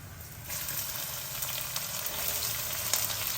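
Onions hitting hot oil in a pan with toor dal for drumstick leaf fry, a steady close sizzle that swells slightly as they settle, with no talking.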